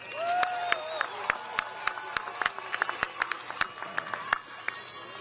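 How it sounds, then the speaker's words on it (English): Audience applause for graduating scholars at a spring university commencement, a sparse scattering of distinct hand claps spread across the room, moderately loud and growing busier toward the middle before thinning out. "Please give these scholars a round of applause."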